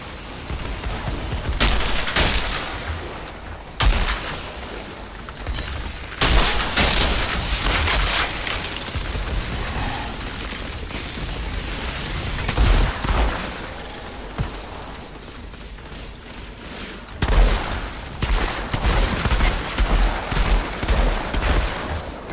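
A legendary sniper rifle fired in the game Outriders during endgame expedition combat, heard as loud, sharp shots in separate clusters, mixed with other battle noise and no talk.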